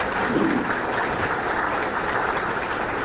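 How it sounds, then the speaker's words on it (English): A room gives a round of applause for county commissioners at a family justice center's 10th anniversary event. The clapping is dense and continuous at moderate volume, with no voices over it. "let's give our commissioners a round of applause"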